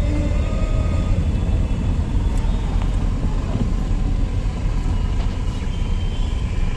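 A manual car driven in second gear around a circle through a busy market area during a driving lesson; a steady low engine hum and road rumble continue throughout, with no talking.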